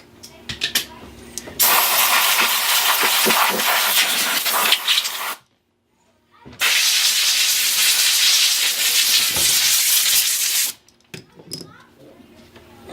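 Two long loud bursts of compressed air blast the air filter of a Troy-Bilt self-propelled mower, separated by a brief silence and bracketed by small handling clicks.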